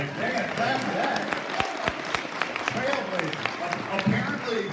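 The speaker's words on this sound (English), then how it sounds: "clap for that" Studio audience applause with scattered sharp claps, a steady wash of clapping that stays at even loudness for several seconds, with talk running over it.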